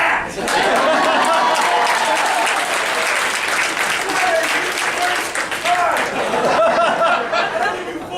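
A crowd breaks into sustained, loud applause with scattered chatter and a few chuckles mixed in, the clapping steady for the full stretch before tapering slightly at the end.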